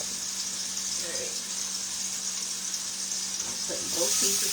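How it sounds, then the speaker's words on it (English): Meat sizzles steadily in a hot frying pan, a dense, close hiss that runs throughout, with a person briefly talking over it near the end. "I'm putting both pieces in there. I hear that sizzle?"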